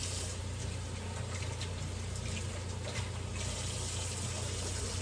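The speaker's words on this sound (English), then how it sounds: "I'm gonna go ahead and rinse them really quickly here." Vegetables being rinsed under a running kitchen tap: a soft, steady wash of water, quiet and close, over a faint low hum, with no talk.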